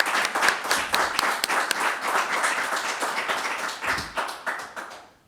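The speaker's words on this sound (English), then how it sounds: "Can we give these candidates a round of applause?" An audience at a Democratic primary state senate candidate forum in Winooski applauds the candidates, giving a steady round of clapping that holds for several seconds and then tapers off.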